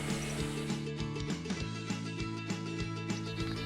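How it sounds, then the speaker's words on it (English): A tool drives two securing screws up through the bottom of a floating shelf mounted on wall brackets, giving a close mechanical whir with a repeating ratchet-like clicking pulse that runs throughout and stays loud. "We are going to secure it from the bottom with our 2 securing screws."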